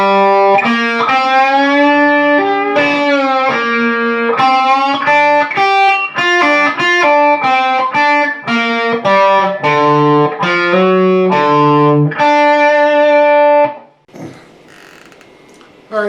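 Distorted electric guitar plays a riff at a slow lesson tempo, a steady run of chugging notes and short bends, loud and close, then cutting to near silence at the end.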